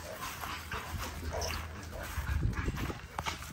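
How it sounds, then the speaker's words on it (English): A Great Dane on the other side of a fence whimpers and gives short barks, faint and somewhat distant, with muffled shuffling noise around it. "They got a dog on the other side"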